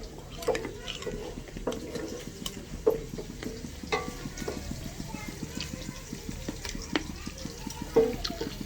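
Oil and onions frying in a pan for homemade khichuri give a quiet, steady sizzle broken by repeated scraping and stirring clicks, with faint voices in the background.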